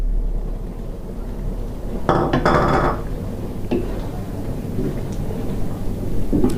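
Beef and eggplant curry with tomatoes stir-fried in a pan gives a steady, close sizzle, broken around the middle by a brief clatter of a utensil against the pan; no one speaks.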